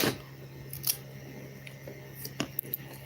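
Scissors snip through excess tape used to hold a battery in place, with a couple of short, crisp close-up cuts and small handling noises in a quiet room.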